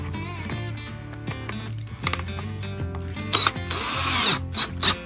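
A power driver sends a screw with a dust washer into a Pine 9 inside-the-waistband holster, whirring in short, close bursts over a continuous tonal background, with no speech.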